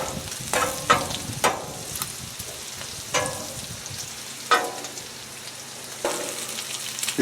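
Potatoes fry in olive oil on a griddle, a continuous crackling sizzle punctuated by several sharper bursts as the food is stirred or turned, close and fairly quiet.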